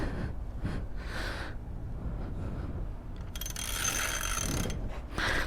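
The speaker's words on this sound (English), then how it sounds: "now let's just tighten back up our axle" Ratchet tightening the rear axle nut on a Surron electric dirt bike, giving short bursts of rapid clicking at close range, faint and alone.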